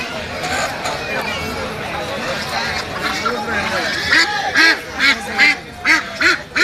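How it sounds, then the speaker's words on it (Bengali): Belgian ducks for sale at a village market quack in a run of loud, rhythmic bursts that grow stronger toward the end, over a busy background of people talking. "বেলজিয়াম হাঁস বিক্রি করতেছে"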